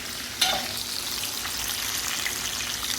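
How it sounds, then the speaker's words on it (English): Hot grease from a hamburger steak pan pours off with a sudden hissing sizzle that starts abruptly and settles into a steady, close frying crackle. "Now let's drain off this grease"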